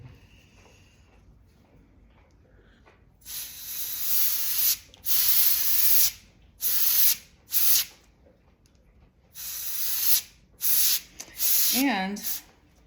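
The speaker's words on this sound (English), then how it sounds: "just 1 coat of varnish on this moon" Varnish sprayed from a can over an alcohol ink painting of a moon, several bursts of loud hissing spray, some long and some short, separated by quiet pauses, close to the listener.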